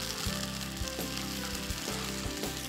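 Sugar and vinegar reduce in a pan with a loud, steady sizzle, bubbling continuously with faint stirring-like shifts throughout, with no voices over it.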